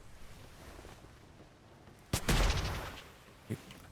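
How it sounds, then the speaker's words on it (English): A green flare fired in a naval video game: a sudden sharp report followed by a loud whooshing burst that fades over about a second, with one further short crack after it, over low background rumble. "Fire another green flare. Firing green flare."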